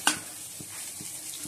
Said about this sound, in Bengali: উচ্ছে আলু ভাজা হয়ে গেছে, এবার নামিয়ে দেবো,